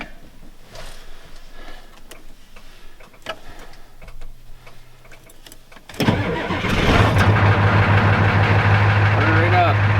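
A farm tractor's diesel engine with bad glow plugs cranks on a cold evening in the 30s and fires into a loud, steady idle after about six seconds, following quiet clicking and fiddling with the throttle.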